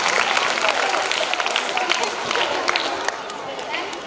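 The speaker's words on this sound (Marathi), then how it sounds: "जोरदार टाळ्या वाजवून आपण सरांचं या ठिकाणी स्वागत करूया" Loud, close audience applause welcoming a speaker at a lecture series, a dense crackle of many hands clapping that continues without a break, with faint crowd murmur underneath.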